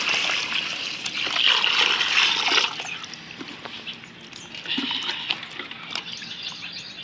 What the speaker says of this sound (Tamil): இப்போ பாருங்க, தண்ணி ஊற்றி எல்லாம் கழுவிக்கலாம்.